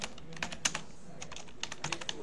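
Quick, irregular keystrokes on a computer keyboard while text is typed into Gerber CAD software for shirt pattern making, close and fairly quiet, with uneven bursts and short pauses and no talking.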